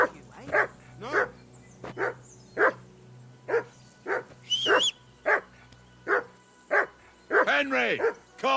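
Repeated barking from a dog in the video game Kingdom Come: Deliverance 2, a dozen or so sharp barks at a regular pace, ending in a cluster of yelps, loud and near.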